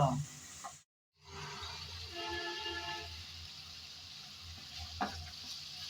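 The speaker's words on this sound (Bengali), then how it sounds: "কিছুক্ষণ সময় নিয়ে মশলা ভালোভাবে কষিয়ে নিলাম" Spiced masala sautés in oil for a Bengali hilsa curry, a steady close sizzle broken by one brief silent gap, with light scraping and stirring clatter over it.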